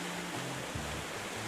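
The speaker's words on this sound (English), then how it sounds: "Oh, but we've got waterfall sound effects and everything." Waterfall sound effects from the video game Farm Folks give a soft, steady rush of falling water. It is a constant hiss with a low murmur beneath and no voices.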